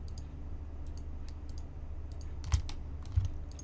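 Keyboard shortcuts tapped and mouse buttons clicked at a computer while texturing a model in Blender: quiet scattered clicks over a low hum, with two sharper clicks near the end.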